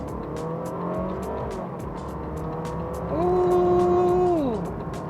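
A Honda Civic RS e:HEV hybrid pulls hard in an acceleration test: a close, steady engine drone rises as a high motor whine climbs, holds for about a second, then drops away, with no talk.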